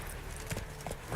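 Horse hooves clip-clopping at a run in The Witcher 3 video game, a steady quiet rhythm of hoofbeats over low game ambience.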